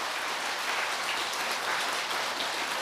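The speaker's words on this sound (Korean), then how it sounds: "박수!" An audience at a Buddhist sermon claps in a steady, even burst of applause that holds at one level throughout, with no voices over it.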